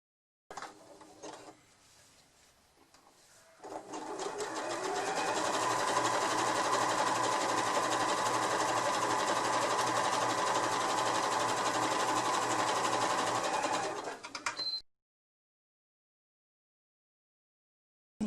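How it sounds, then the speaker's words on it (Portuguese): Sewing machine stitching the fabric sides of a small pouch with ironed-on batting: a couple of brief starts, then a steady close whir for about ten seconds before it stops, followed by silence. "costuramos as duas laterais na parte central da nossa nécessaire"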